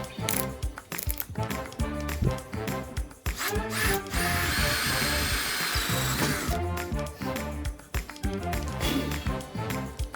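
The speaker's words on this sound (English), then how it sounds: "Now we need to make the hole. I'm gonna use this drill for it." A power drill bores a 32 mm hole in a wooden scrap-wood birdhouse, its motor whirring steadily through the middle while taps and knocks come before and after, close and moderately loud.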